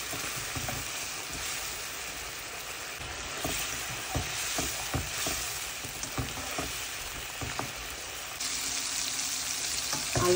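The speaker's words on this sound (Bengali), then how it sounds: "এখন আলু আর মশলাটাকে ভালো করে কষিয়ে নিয়ে তারপরে মাছগুলো দিয়ে দিব" Potatoes and spices with a little water sautéing in a pan before tangra fish go in, a continuous close frying sizzle with scattered stirring scrapes, no voices.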